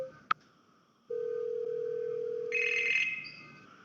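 Telephone call tone to a coworker: a sharp click, then a steady mid-pitched ringback tone that shifts to a brighter, higher tone near the end, alone and fairly quiet.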